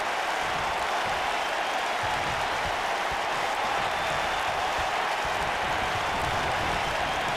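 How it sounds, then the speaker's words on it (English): A capacity wrestling arena crowd roars and applauds steadily, a dense, loud wall of cheering and clapping sustained throughout with no clear voices standing out. "This capacity crowd starting to sense the end is near"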